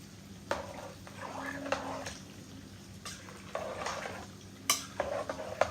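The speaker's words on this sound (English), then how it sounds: "And now I'm going to stir this pot." A spoon stirs a pot of spinach rice with okra and chicken, scraping the pot in several separate strokes, with a few sharper knocks near the end and a soft sizzle underneath.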